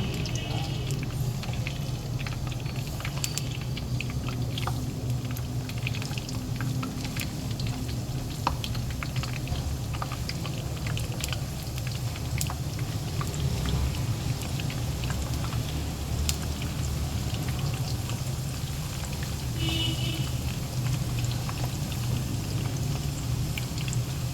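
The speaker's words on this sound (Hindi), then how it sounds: "ऑयल लेंगे और ऑयल में पकौड़े डालते जाएंगे, ऐसे ही सारे डालते जाएंगे फुला फुला के" Vegetable pakoras are dropped one after another into hot oil, which keeps up a steady loud sizzle and crackle throughout.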